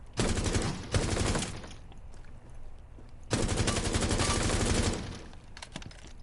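Rapid automatic gunfire at targets in Rainbow Six Siege X, loud and close, in two long bursts of fast repeated shots with a short break and a few scattered single shots between them.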